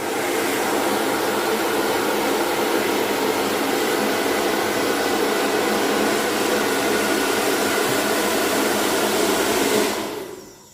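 A hair dryer blows steadily and loudly for about ten seconds as hair is rolled around a round brush for a bridal style, then cuts off near the end.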